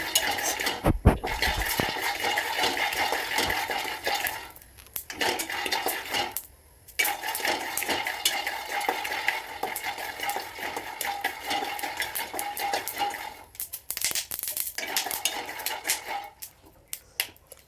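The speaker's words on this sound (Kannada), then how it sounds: "ಫಸ್ಟ್ ನಾನು ಶೇಂಗಾಕಾಳು ತೊಗೊಂಡು ರೋಸ್ಟ್ ಅಂತೀನಿ ವಿತೌಟ್ ಆಯಿಲ್" Peanuts dry-roasting in a pan without oil, stirred steadily with a utensil, giving continuous rattling, scraping and clinking that runs for most of the clip with a few brief pauses.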